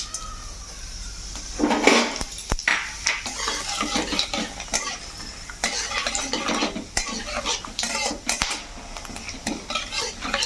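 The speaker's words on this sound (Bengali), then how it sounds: "একটা শুকনো লঙ্কা এলাচ একটু দারচিনি কয়েকটা লবঙ্গ আর গোটা জিরে এটা তেলের মধ্যে দিয়ে দিচ্ছি" Dried chilli, cardamom, cinnamon, cloves and whole cumin are dropped into hot oil in a home kitchen pan and crackle, while a utensil stirs and clatters against the metal in busy, uneven bursts close by.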